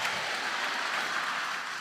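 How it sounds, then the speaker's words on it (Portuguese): A short burst of dense, steady crowd applause at an outdoor preaching event, an even hiss of many hands with no voices over it. "Pode aplaudir João Batista"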